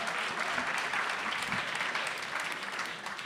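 An audience at a Lyon debate event on disinformation applauds steadily, a dense wash of clapping at moderate distance that holds evenly for a few seconds.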